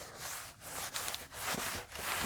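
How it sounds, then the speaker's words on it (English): A microfiber cloth wipes across the polished resin surface of a river table, producing close, rhythmic rubbing swishes in repeated strokes with brief pauses between them. "Just wiping it down with a clean microfiber cloth, the finish is beautiful."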